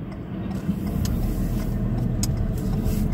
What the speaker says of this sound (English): Slowing the car down, a little bit of braking, clutch down, back into first gear.